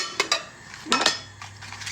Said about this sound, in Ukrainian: Ну, малірована посуда, знаєте, є така.